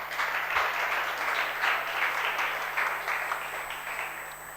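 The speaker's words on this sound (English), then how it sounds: "Big round of applause." An audience at a book award ceremony gives a sustained round of applause, a dense, even wash of clapping that swells and then slowly fades over several seconds, with a faint steady hum underneath.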